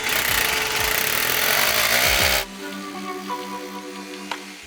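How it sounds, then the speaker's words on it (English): A loud, steady drill bit grinding into gummy material roars for a couple of seconds, then cuts off abruptly, leaving a quieter low hum with a faint click near the end. "kind of drill bits getting stuck down in there"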